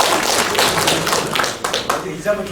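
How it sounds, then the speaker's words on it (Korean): Audience applause at a Sydney Korean community association candidates' election speech event: a crowd claps steadily for a couple of seconds, with dense overlapping hand claps that thin out near the end. "우리 격려의 박수 주시면 감사하겠습니다"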